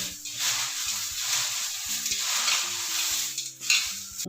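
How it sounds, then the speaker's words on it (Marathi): Corn chivda being mixed in a pan with asafoetida and sesame seeds, a continuous dry rustling stir with light scraping, close and fairly loud throughout, no talk. "तीळ हिंग घातल्यानंतर परत पुन्हा एकदा व्यवस्थित मिक्स करून घ्यायचं आहे"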